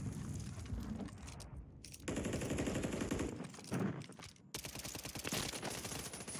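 Rapid SMG bursts in a competitive tactical shooter video game, loud overlapping rattling volleys that stop and restart several times with short gaps between them.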